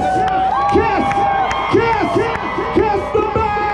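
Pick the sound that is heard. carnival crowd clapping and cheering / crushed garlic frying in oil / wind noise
carnival crowd clapping and cheering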